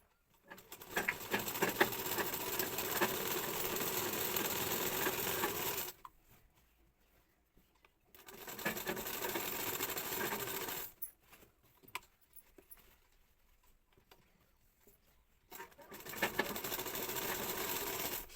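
A sewing machine runs stitches around a neckline, one inch in from the edge, in three loud, steady bursts separated by pauses of near silence.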